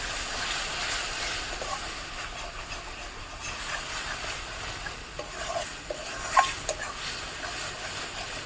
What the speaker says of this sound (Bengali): দিয়ে মশলাটা ততক্ষণ কষিয়ে নেবো যতক্ষণ না মশলা থেকে তেল বেরোচ্ছে।